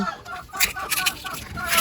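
Backyard farm chickens cluck and murmur close by around the egg nests, a busy run of short calls with a person's voice mixed in.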